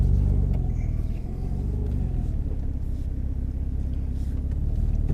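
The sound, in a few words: Renault Clio V6 Sport car engine while turning around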